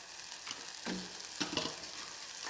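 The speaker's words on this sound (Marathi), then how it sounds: "आता भेंडी टाकायची, त्याच्यामध्ये" Okra tipped into cooked spices frying in a pan, giving a continuous close sizzle with a couple of brief stirring clatters, no talk.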